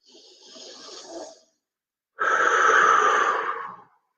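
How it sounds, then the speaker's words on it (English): A deep breath taken close to the microphone: a softer, wheezy inhale, a short pause, then a longer, louder sighing exhale, with no talking over it. "So let's take a deep breath."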